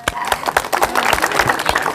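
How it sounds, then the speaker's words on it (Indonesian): A short burst of hand clapping from a small group at a school disaster mitigation drill, sharp claps in a quick, uneven rhythm, fairly close. "Tepuk tangan dulu."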